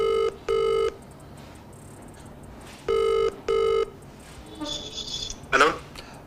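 Telephone ringing in two pairs of electronic double rings, loud and close with pauses between, followed by a short higher electronic chirp and a brief burst of voice at the end.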